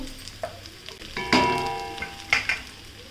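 Roasted varai and peanuts added to a hot pan for a Navratri fasting dish, with soft intermittent sizzling and a few sharp clinks and scrapes of stirring, quiet and close.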